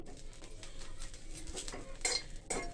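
Tamarind leaves are dry-fried in a pan, faint soft rustling and scraping with occasional clinks of a spatula against metal, close and quiet with no talking.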